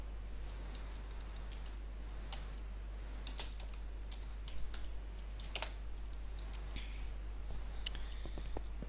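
Keyboard keys tapped to enter a Minecraft chat command, a light sparse run of clicks over a steady low electrical hum, close and fairly quiet.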